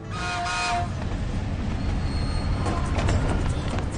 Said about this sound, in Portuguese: La Bestia, o trem da morte.